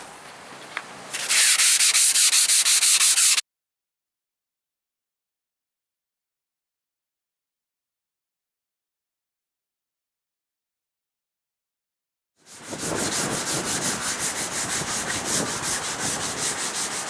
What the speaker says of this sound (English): Just taking the surface off with 150 grit, trying to get it nice and smooth.